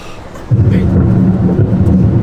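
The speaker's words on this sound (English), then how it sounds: "Oh dear, here comes the storm again." A thunderstorm sound effect from a summer stage production of The Tempest: a loud, sustained rumble of thunder rolls in after a brief quiet moment and keeps going.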